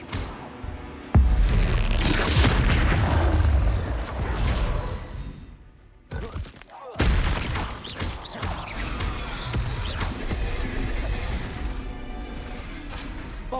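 A Bombarda blasting spell detonating in Hogwarts Legacy, heavy crashing impacts and rumbling debris across the stretch, with a brief drop to near quiet midway before another loud burst and continued clatter.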